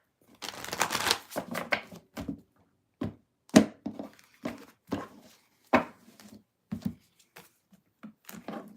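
Tarot cards are shuffled by hand in a quiet room, a burst of riffling followed by a series of separate soft slaps and taps as the deck is cut and squared, close and fairly crisp.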